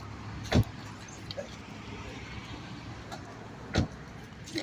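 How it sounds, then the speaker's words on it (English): Street traffic at an outdoor performance, a low steady rumble of passing vehicles with two sharp thuds like car doors closing, moderately distant. "the traffic noise"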